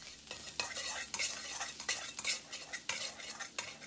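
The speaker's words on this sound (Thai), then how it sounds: "น้ำมันร้อนแล้วนะครับใส่กระเทียมสับลงไป1ช้อนโต๊ะผัดกระเทียมของเราให้แตกกลิ่นหอมเลยครับ" A spatula stirs minced garlic in hot oil in a pan, with rhythmic scraping strokes about twice a second over a light sizzle, close and with no talking.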